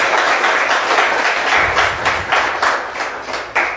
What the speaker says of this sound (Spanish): ¿No le quiere dar un aplauso al Señor?